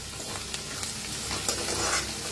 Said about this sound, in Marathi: तर असं तेलात भाजून घेऊया कोथिंबीर बी